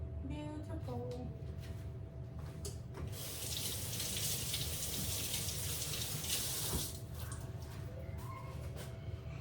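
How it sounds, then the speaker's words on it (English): Kitchen tap water runs steadily into a sink while hands in gloves are washed under it, a close, continuous gush with faint splashing changes. "I kind of wash my hands with my gloves on."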